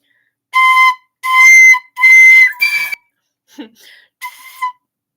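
An alto flute plays a few breathy, sustained notes separated by short pauses, with a faint soft sound in one gap.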